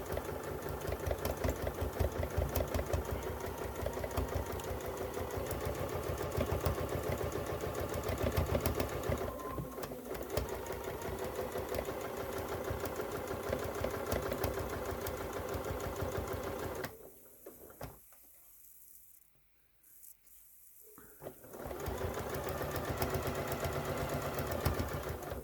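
A home sewing machine runs steadily, stitching fabric for washable paper towels made from scraps, with a fast even mechanical whir, a brief pause then near silence midway, before the stitching resumes close and loud.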